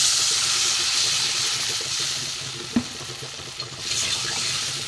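Masala for a homemade fish curry sizzles steadily in a pan as a little water goes in, a brief sharp burst near the middle, then continued frying hiss and stirring, close and alone with no talk.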